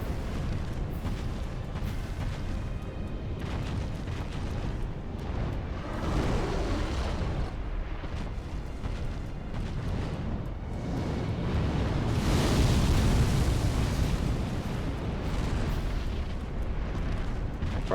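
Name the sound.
boss explosion in Dark Souls 3, video game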